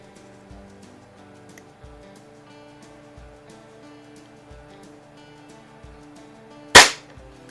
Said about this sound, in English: the firing cycle on it is so quiet now